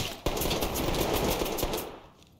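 A short, rapid burst of rifle fire in the tactical shooter game Ready or Not rattles loudly and close, then cuts off and fades.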